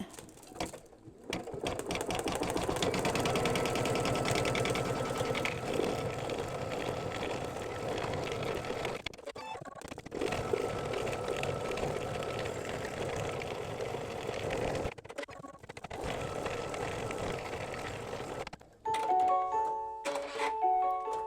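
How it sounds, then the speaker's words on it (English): A computerized embroidery machine stitches mylar on a mug rug, its steady mechanical whirring running for long stretches with brief stops between runs, and a few electronic beeps sound near the end. "Okay, so now I'm going to start stitching the mylar"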